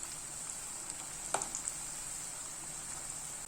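Idli batter bondas fry in oil over a medium flame, a steady fine sizzling hiss with a few soft pops and a small splash near the middle.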